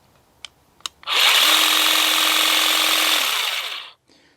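Greenworks 24v grass shear and shrubber with oscillating blades runs in a single steady burst of about three seconds, a loud buzzing whir that cuts off abruptly, preceded by a couple of faint clicks as the trigger is handled.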